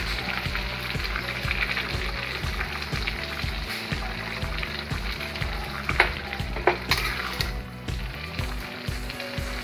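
Bottle gourd fries and sizzles steadily in a pan as poppy seed paste goes in, with bright crackling and soft stirring scrapes close up throughout, no talk.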